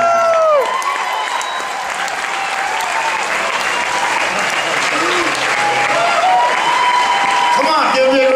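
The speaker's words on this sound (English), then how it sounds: "Come on, give me a round of applause." Loud, sustained applause and cheering from a concert audience welcoming a young singer to the stage, dense clapping filling the whole stretch with occasional whoops and voices over it.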